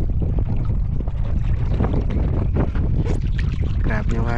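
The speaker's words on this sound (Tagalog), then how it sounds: "Grabe yung hangin, no?" Strong wind buffeting the microphone with a constant roar in bad weather at sea on a diving trip, with faint indistinct voices and splashing mixed underneath.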